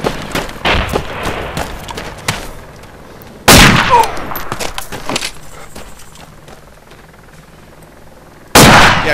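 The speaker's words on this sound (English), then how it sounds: "Yeah, shoot every single one." Video game gunfire as enemies are shot: scattered sharp shots, a few loud isolated bangs standing out among quieter rattling and clatter.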